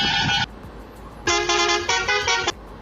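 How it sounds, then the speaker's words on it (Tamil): A bus horn in Bus Simulator Indonesia sounds in two loud blasts, a short tone followed after a pause by a longer, slightly pulsing musical horn. "இந்த 3 ஹார்ன் தான் நம்ம செட் பண்ணி வச்சுருக்கோம்."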